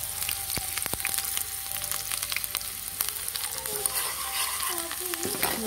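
Half an onion frying in hot oil for a tempering, a steady close crackling sizzle broken by occasional scrapes and knocks of stirring.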